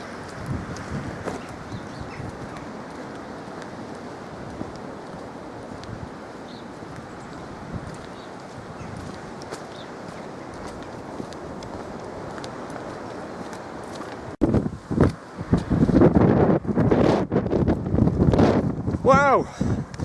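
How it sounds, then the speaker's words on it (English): Strong outdoor wind roars and buffets the microphone for the whole stretch, growing louder and rougher near the end. "Wow, this wind is getting a bit much."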